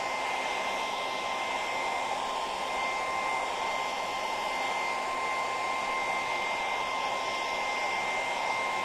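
A hair dryer blows steadily at close range, drying paint on a Christmas-themed stencil project, a loud continuous whirring hiss with a constant tone and no talk.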